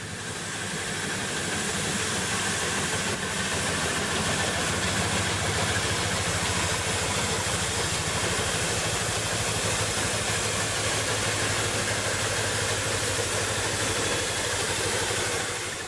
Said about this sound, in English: Various vintage steamrollers and traction engines were a huge attraction.